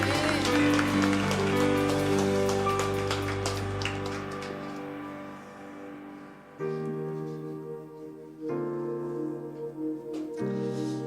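A church congregation at a Wednesday worship service claps together in a dense, loud burst that fades to scattered, thinning claps toward the end.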